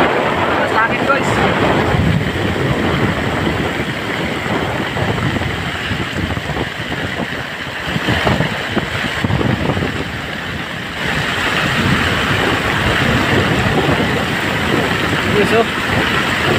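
Strong wind roars steadily across the microphone on a small fishing boat far out at sea, with waves and engine rumble beneath and a voice talking over it throughout.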